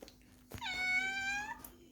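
A pet cat indoors gives one clear, drawn-out meow at moderate distance, with quiet room sound around it.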